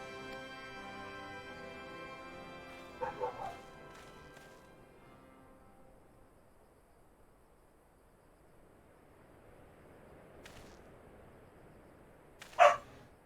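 Dogs in a room give a few scattered barks, a short cluster early on and a sharper single bark near the end. Sustained game music and faint background hum play beneath them.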